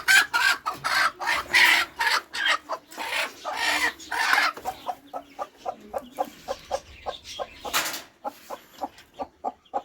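A brooding hen released from her clutch of eggs clucks loudly and close by, starting with a burst of flustered, noisy calls and settling into a steady run of short, evenly spaced clucks.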